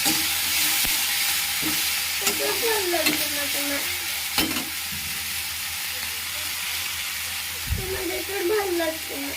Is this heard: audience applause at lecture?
no